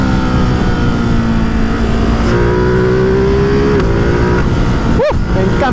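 A Ducati Multistrada 950S engine roars loud and steady at high revs, its pitch climbing and shifting, close and continuous with a sharp rising rev burst near the end.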